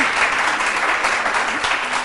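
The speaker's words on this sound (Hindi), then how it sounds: "तो ताली बजा दो आप" Studio audience on a Hindi morning cooking show breaks into steady, loud applause, a continuous wash of many hands clapping close by with no pauses.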